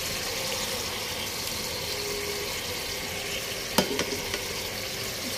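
Onion paste frying in a pot of hot oil for a korma, with a steady broadband sizzle throughout and a few sharp clinks of a spoon against the pot near the end.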